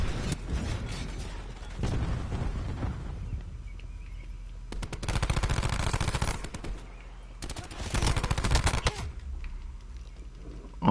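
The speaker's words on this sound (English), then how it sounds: "Cluster grenade going out." Bursts of rapid gunfire and explosive blasts from Call of Duty Black Ops 4, where a cluster grenade goes off, come in loud clustered waves separated by quieter rattling stretches, with no talk.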